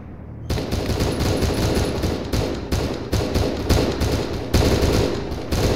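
A dense, sustained firefight in Arma 3: rapid machine-gun bursts and overlapping rifle shots crackle continuously at a loud, steady level, with no voices over them.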